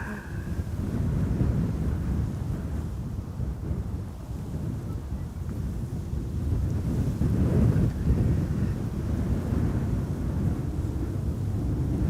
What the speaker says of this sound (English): the winds are blowing violently